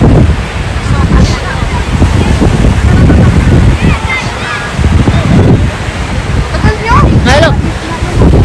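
Strong wind buffets the microphone while ocean waves crash continuously at a beach in Taiwan, loud and close, with brief voices under the roar.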